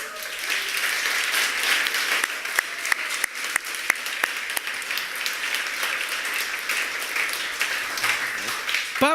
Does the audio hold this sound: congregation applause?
yes